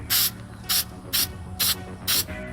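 Spray can of contact cement hissing outdoors in five short, evenly spaced bursts, each about a quarter second long, loud and close with a faint low background hum.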